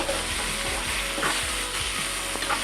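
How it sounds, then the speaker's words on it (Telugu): Onions with ginger-garlic paste sizzle loudly and steadily in a pan for an egg curry, a dense close frying hiss with faint stirring scrapes and no pauses. "ఇది మంచిగా ఫ్రై అవుతుంది కదండి."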